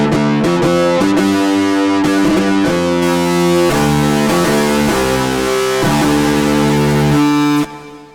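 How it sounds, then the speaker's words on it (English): A gritty, distorted synth from the Soundpaint 1974 Jagra instrument plays a loud chordal phrase with shifting notes, buzzing and saturated, before cutting off abruptly near the end. "You can change you can change the different type of distortion that you have"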